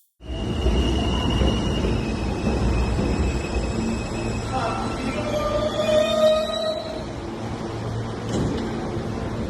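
A New York subway train riding toward Coney Island gives off a loud, steady rumble, with metallic wheel squeals rising and falling partway through the ride.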